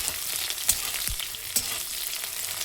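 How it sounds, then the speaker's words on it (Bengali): Onion frying in a pan while being stirred, a bright continuous sizzle broken by a few quick spatula scrapes, close and fairly loud. "পেঁয়াজটা দেওয়ার পর এটাকে একটু নাড়াচাড়া করে দেবো"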